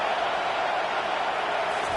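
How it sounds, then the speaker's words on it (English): Steady crowd roar fills a football stadium early in the game, a dense even wash of many voices with no clear break, carrying on at a constant level for the full stretch. "Listen to the crowd energy here in the early going"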